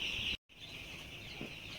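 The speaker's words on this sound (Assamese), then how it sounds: "বৰ্ডিঙত বাচ্চা কেনেকৈ ৰাখে, মুৰ্গীৰ পোৱালি, আপোনালোকে ভিডিঅ'টো চাব পাৰিব আৰু শুনিব পাৰিব" Young chicks in a poultry brooding house, a dense, constant chorus of high peeping from many birds close by, broken by a brief silent gap early on.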